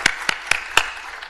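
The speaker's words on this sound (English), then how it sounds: "just another round of applause for everyone" A few scattered, fading claps from a symposium audience, about four distinct sharp hand claps spaced evenly apart, fairly close and alone without talk.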